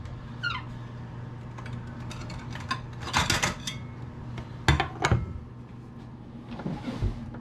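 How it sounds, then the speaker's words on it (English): Serving spoon clinks and scrapes against a baking dish while scooping out Southern squash casserole, a few scattered knocks and scrapes of utensil on dish, fairly close, with quiet kitchen background. "Let's get a scoop out to show them"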